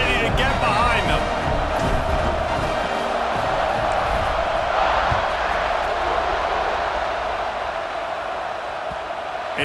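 A large crowd roars continuously at a college football stadium, Tennessee against Georgia, as the kickoff approaches in a tied third quarter. The noise is dense, loud and sustained, with an announcer talking over it.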